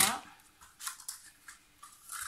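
A pair of scissors snips paper or fabric in several short, crisp cuts spaced irregularly, close and fairly quiet with no talking.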